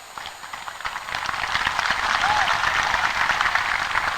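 Audience at an Islamic sermon in Aceh applauding, the clapping building from scattered claps into a steady dense roar that holds to the end, with no speech over it.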